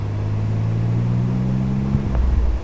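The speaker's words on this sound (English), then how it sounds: "Oh, did you hear the turbos? You started a spool there." Inside a twin-turbo Nissan 300ZX being driven, a loud low engine drone with steady tonal harmonics that climb slightly, then a brief shift in pitch near the end.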